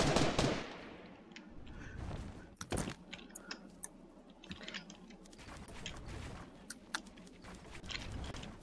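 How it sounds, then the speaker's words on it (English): Gunshots in Fortnite ring out in sharp, scattered cracks and short bursts over busy game noise, near and fairly loud, with faint clicking between shots. "You literally missed all your shots, Calvin."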